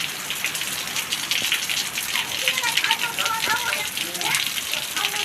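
Heavy evening rain pours down with strong wind, a dense, steady rushing hiss that stays loud and even from start to finish with no pauses.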